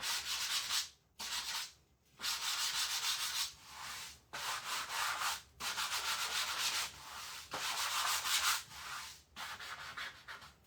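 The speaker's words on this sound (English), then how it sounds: "I'm going to sand over that as soon as I find my sanding block." A sanding block rubs back and forth over a painted wooden farmhouse welcome sign, steady scratchy strokes in bursts with brief pauses between passes, close and alone.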